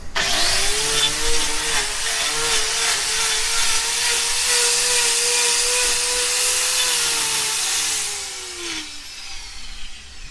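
A loud, steady whine of an angle grinder cutting a hoof runs for several seconds, then winds down and trails off.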